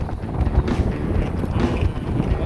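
Strong wind buffets a hilltop temple path in Prachuap Khiri Khan, Thailand, roaring steadily as it batters the microphone, with low rumbling gusts running the whole time and no talk over it.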